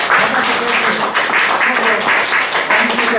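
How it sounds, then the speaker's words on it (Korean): An indoor audience at a lecture hall clapping together, a close, dense burst of hand claps lasting a few seconds with uneven pulses, voices faintly mixed in. "박수를 한번 좀"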